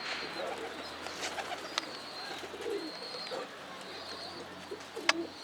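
Pigeons cooing softly outdoors during an attempt to catch a runaway pigeon, low murmuring coos repeating under a noisy background with a few sharp clicks and knocks; no talking.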